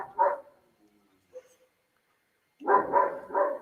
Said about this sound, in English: It's so many dogs are barking